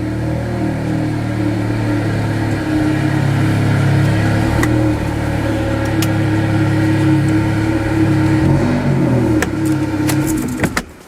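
Car engine idling and rumbling steadily at close range while the car is moved, a continuous low drone with a few faint clicks and knocks toward the end.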